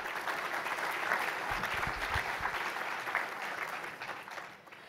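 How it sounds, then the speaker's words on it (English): Audience applause for a housing-policy panel at a morning civic session, a steady broad clapping wash with no talk that holds for about four seconds and then fades near the end. "Let's give them another round of applause."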